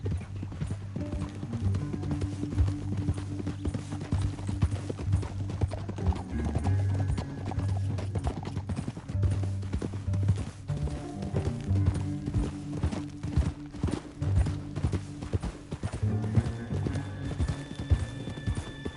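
Hooves clip-clop steadily on hard ground, several horses trotting together at a steady rhythm, with an occasional whinny rising over the clatter.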